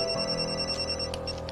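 A telephone rings with a steady electronic trill, held evenly for the whole short moment at moderate volume with no voices over it.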